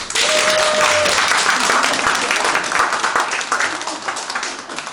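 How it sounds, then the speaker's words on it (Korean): Audience applause at a neighborhood gathering with the mayor at an apartment complex, dense clapping starting at full strength and slowly thinning toward the end, with a brief tone and some voices underneath. "박수 한번 쳐주세요."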